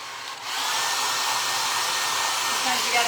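A hair dryer blows steadily on damp paper mache during a fabric-box craft, starting with a brief quieter moment before settling into a loud, constant close-up whoosh.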